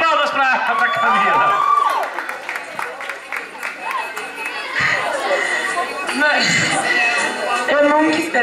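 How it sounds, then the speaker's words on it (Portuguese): Friends cheer and clap for Camila at a surprise celebration in Vila Guilherme, São Paulo, with a lively crowd of chatter, shouts and scattered clapping that swells and fades under excited voices. "Uma salva de palmas pra Camila!"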